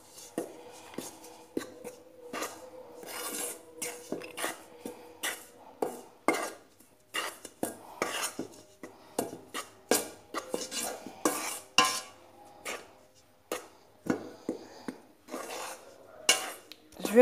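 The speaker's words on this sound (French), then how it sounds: "maintenant je vais mélanger le tout" Utensil stirring and scraping ingredients together in a bowl, a busy run of irregular clinks and swishes, close and fairly quiet, with no talking.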